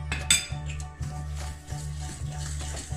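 Biscotti dough being stirred as flour is worked in, a utensil knocking and scraping against a bowl in repeated close clinks and scrapes over a steady low hum.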